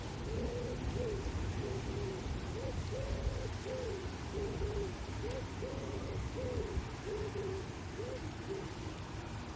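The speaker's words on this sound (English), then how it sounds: "Can you hear the pigeon in the tree behind us?" A pigeon in a tree coos steadily in soft repeated low phrases, a rhythmic run of hoots over constant loud background rumble, mid-distance and without speech.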